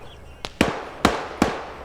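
Gunfire in the Arma military game cracks out in sharp, separate bursts: one smaller shot and then three louder, evenly spaced reports. The shots sound close and punchy and are heard on their own.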